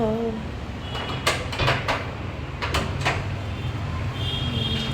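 A household door is opened, giving a few clattering, sliding thumps and rattles over a steady low hum, fairly close and moderately loud, with no talking.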